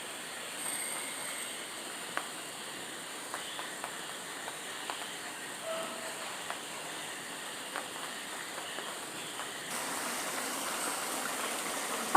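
Kerala-style crab curry boils in a pot, a soft, steady bubbling hiss with faint scattered pops, then the sound brightens slightly near the end, with no voices.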